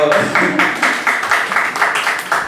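An open mic audience in Lucknow claps in quick, evenly spaced beats, loud and close, for a couple of seconds without a break.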